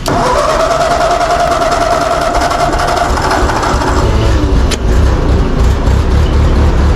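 A Ford 8N tractor engine cranks and catches, then runs with a loud, steady rumble that stays close and continuous with no talk.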